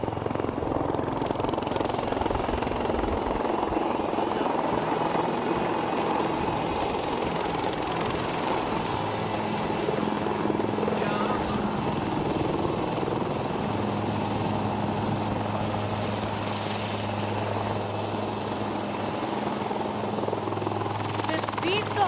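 Light combat helicopter flying at an air show near a runway, its rotor drone steady and broad with a high whine running throughout, moving sideways parallel to the runway for a long, continuous stretch.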